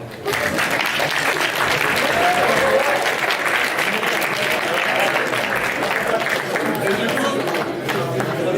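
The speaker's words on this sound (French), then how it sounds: "Vous pouvez les applaudir." A student crowd at a French engineering school's student union list presentation applauds loudly for a list of candidates, dense clapping with some shouts and chatter mixed in, sustained for several seconds.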